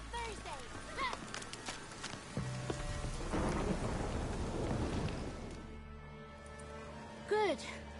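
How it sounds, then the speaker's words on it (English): A thunderstorm in the video game The Witcher 3: steady rain patters on surfaces while a rolling thunder crash builds and fades, with a character's voice speaking over the storm. "The storm"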